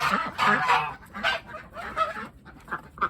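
Geese being chased around a house honk repeatedly in loud, nasal bursts, several birds overlapping in an uneven, agitated rhythm close by.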